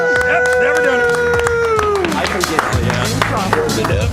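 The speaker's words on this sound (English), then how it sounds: "keep that applause going for Maddi, Bill, and Michael" Audience at a live comedy show applauding as performers come to the stage, a sustained dense patter of clapping with crowd murmur, sounding full and close.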